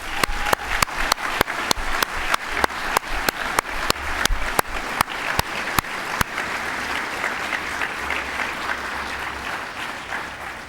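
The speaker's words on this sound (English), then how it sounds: "Graduates, would you join me in a round of applause for all the Swinburne staff?" Dense applause fills a university graduation ceremony hall, many hands clapping steadily with sharp near claps standing out early, then gradually thinning and fading toward the end.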